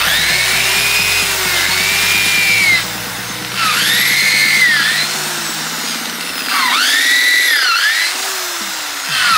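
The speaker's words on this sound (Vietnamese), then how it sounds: "Ta khoan lại lỗ khác nhé." A power drill bores into a red sandalwood log, whining loudly and close in long bursts that rise and dip in pitch as the bit works through the wood, with no voices.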